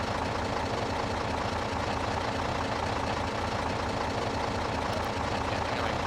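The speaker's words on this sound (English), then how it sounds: "it's one loud truck, isn't it?" A loud truck engine idles steadily in Farming Simulator 22 during a wheat harvest, a constant low rumbling drone with no breaks and no voices.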